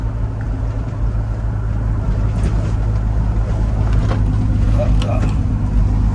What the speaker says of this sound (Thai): ตอนนี้กำลังขี่รถกลับอยู่